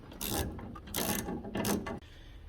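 An 8 mm wrench tightening fender liner bolts on a motorcycle rear fender, giving close, repeated ratcheting clicks in three bursts, each lasting about half a second, with no talking.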